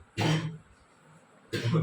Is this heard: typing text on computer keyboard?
no